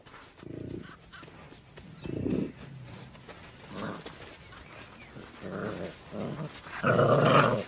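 Wolves growl and snarl while feeding on a bison calf carcass in the Russian winter near Chernobyl, with repeated low rumbling growls in bursts, the loudest near the end, over faint outdoor background.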